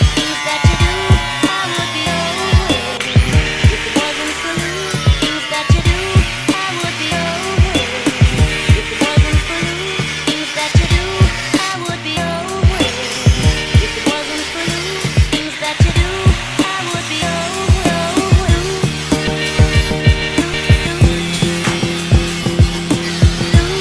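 A power tool cuts metal fender parts on a slammed Nissan S14. Repeated harsh, rasping cuts and grinding strokes come close and loud, with pitched whines and short gaps between passes, and no talk.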